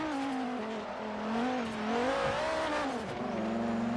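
A 2014 Terradyne Gurkha LAPV armored vehicle in Forza Horizon 3 climbs a steep uphill road through a hairpin, its engine droning steadily with pitch rising and dipping through gear changes, loud and close with no talk.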